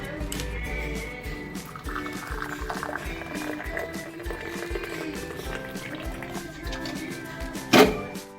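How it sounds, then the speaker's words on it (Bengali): Brewed tea trickles through a strainer in a home kitchen, a soft steady pour and drip at close range that continues for several seconds, ending in a brief louder clink near the finish. "আর এইখানে দেখো, আমি চাটাও ছেঁকে নিচ্ছি"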